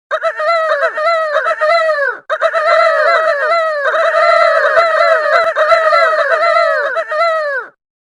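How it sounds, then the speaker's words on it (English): Peter Pan crows like a rooster in Kingdom Hearts in a string of loud, warbling calls. The calls run back to back with only a short break partway through. "Peter Pan making rooster sounds"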